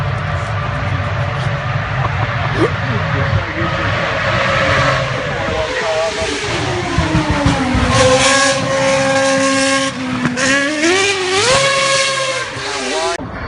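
A Formula One car's 2.4-litre V8 engine screams at high revs doing burnouts at the Goodwood Festival of Speed, pitch sweeping up and down through repeated throttle bursts, loud and close, with faint chatter in the background.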